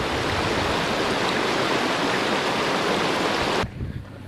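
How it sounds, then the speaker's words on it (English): A creek in the Utah or Colorado backcountry flows steadily and loudly close by as a dense, unbroken rush of water that drops away abruptly near the end. "There's the creek I just fell in."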